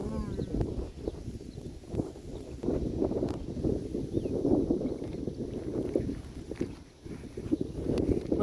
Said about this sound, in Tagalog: Grabe mahangin ngayon.